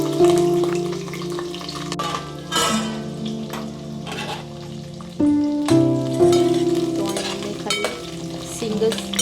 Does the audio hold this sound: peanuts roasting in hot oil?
yes